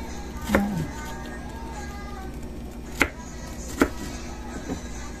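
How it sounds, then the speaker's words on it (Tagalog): Knife slices fruit into small pieces on a board for a fruit salad with tuna, four or five sharp chopping taps spaced apart over steady room noise. "Tapos ay ating hiwain pang ganito."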